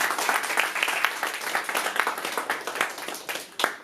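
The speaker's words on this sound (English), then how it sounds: "I think give him a round of applause, he did amazing" Enthusiastic applause from an audience, many hands clapping at once with sharper individual claps toward the end as it thins out.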